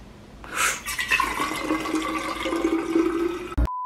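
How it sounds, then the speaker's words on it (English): Water is poured into a bottle, a steady gurgling fill that rises in pitch over a few seconds and stops abruptly near the end, with no talking. "I had some water here that I'm gonna go ahead and throw in here."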